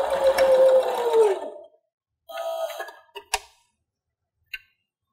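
A sewing machine stitches a fabric seam at 2.5 mm stitch length along a quarter-inch guide for a sunglasses case: a close whirring run, a pause, a shorter burst, then a few isolated clicks.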